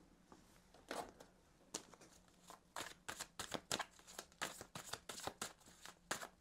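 Tarot cards are shuffled, handled and drawn close to the microphone, giving a quiet run of soft papery flicks and slaps in irregular bursts.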